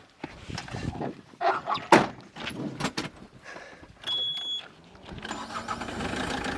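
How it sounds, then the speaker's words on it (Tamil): A car engine cranks with clunks and bursts, then catches and settles into a steady loud running roar, recorded close by. "இந்த காரில் இப்போ பாருங்கள் உங்களுக்கு ஸ்டார்ட் பண்ணி காட்டுறேன்"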